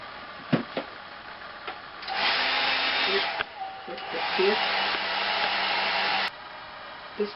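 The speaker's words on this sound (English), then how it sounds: "I'm going to dry this because it may show through white underneath." After a few light handling knocks, a hair dryer blows a loud, steady whoosh for about four seconds over freshly sponged decorative paint, then cuts off sharply, followed by a couple of faint clicks.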